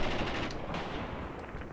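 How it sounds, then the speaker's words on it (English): Sustained automatic gunfire from a Graviteam Tactics battle, a dense continuous rattle of distant fire with sharper cracks poking through and no pauses. "you are free to open fire at enemy infantry"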